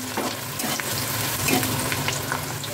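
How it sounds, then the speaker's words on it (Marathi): Onion sautés in a pan for chicken sukka, a close, steady sizzle of frying with light stirring scrapes running throughout, no voices. "कांदा आपल्याला 5 मिनिटं परतून घ्यायचा आहे"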